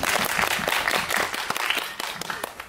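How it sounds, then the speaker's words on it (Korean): An audience at a Korean film screening with a guest talk applauds in a full, dense wash of many hands clapping, loud and sustained with no voices over it. "네, 박수 부탁드릴게요."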